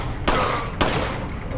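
Two loud, sharp gunshots from a powerful weapon in Resident Evil 4, about half a second apart, each with a booming tail.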